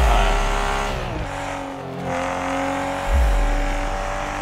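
A turbocharged Toyota AE86 on a trail sprint course drives close by with a loud, continuous engine roar whose pitch dips and rises as it shifts and accelerates.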